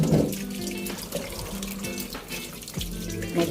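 Tap water runs steadily into a sink while sweet potatoes are washed under it, a continuous close splashing with small clatters of the tubers and no talk.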